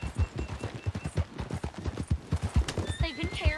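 Horse hooves clip-clop at a steady trot in the Red Dead Redemption 2 video game, with rhythmic close hoofbeats throughout and a whinny near the end.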